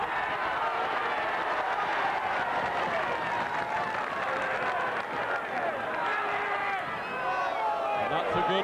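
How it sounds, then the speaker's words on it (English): A rugby league crowd at Bradford versus Wigan roars continuously as Wigan press forward, a dense, loud wash of cheering and shouting heard from a distance, with a commentator talking over it throughout. "the crowd are getting all worked up as Wigan go piling in"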